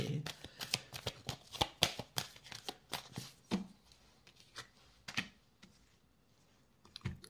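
A deck of tarot cards being cut and shuffled by hand, with rapid crisp slaps and riffles close to the listener that slow into scattered taps, while a voice speaks quietly over part of it.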